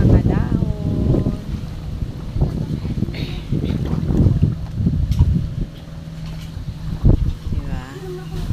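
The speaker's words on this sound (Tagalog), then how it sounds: "Sarap ng hangin." Wind rushes steadily outdoors at Taal Lake beneath a man's speech, with a constant low gusty roar filling the background throughout.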